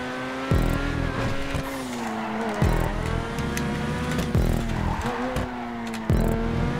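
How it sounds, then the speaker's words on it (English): A Tigon car engine in GTA 5 Online revs loudly and repeatedly, climbing in pitch, dropping abruptly with each gear shift, then climbing again, close and continuous. "Vroom! I love the sound of this car."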